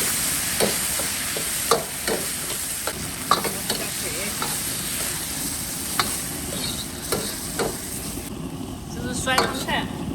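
Onions going into a hot pan with sour soup, a steady frying sizzle broken by repeated scraping stirs, with a voice talking over the cooking.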